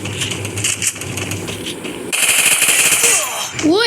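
Gunfire in a shooting video game: rapid automatic bursts crackle through the game's sound, growing louder and denser midway, with faint in-game ambience underneath.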